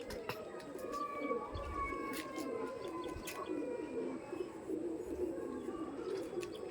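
Soft, low pigeon cooing repeats in the background amid steady outdoor ambience, with faint higher bird chirps scattered throughout, near a pigeon loft with young birds in cages.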